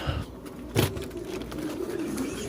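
A racing pigeon gives a soft, low coo against faint outdoor background noise, with one brief louder knock near the start.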